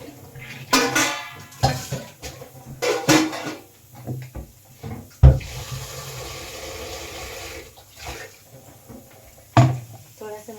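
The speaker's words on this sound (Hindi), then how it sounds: "थोड़ा सा मैं चावल गीला बनाती हूँ तो पानी मैंने थोड़ा सा ज़्यादा डाला" Water poured into a cooking pot for rice in a home kitchen, with clattering dishes and pot knocks between bursts, a steadier running-water stretch in the middle, and brief bits of speech.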